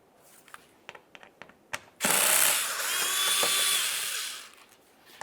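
A power tool with a T25 Torx bit spins out a mounting bolt on the engine splash shield of a 2011-2018 Volkswagen Jetta, a loud whirring burst of roughly two and a half seconds following several sharp clicks and taps.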